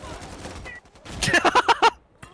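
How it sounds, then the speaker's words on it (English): Gunfire in the video game Insurgency Sandstorm: a quick burst of about five or six sharp shots in a row, loud and close, preceded by a voice talking. "I got shot by the sniper."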